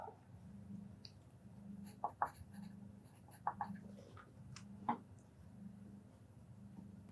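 A pencil moves on paper during a speaking test, giving soft, irregular scratches and taps in short bursts over a quiet room hum.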